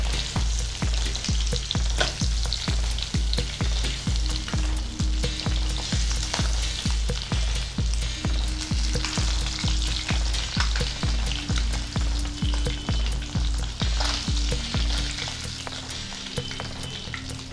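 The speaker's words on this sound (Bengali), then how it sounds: "ঢাকনাটা বন্ধ করে আমি মাছটা হালকা করে ভেজে নিলাম এপিট ওপিট করে।" Tangra fish frying in oil in a covered pan, a loud steady sizzle with a fast, regular rhythmic crackle that holds for most of the stretch and then eases off near the end, close and without speech.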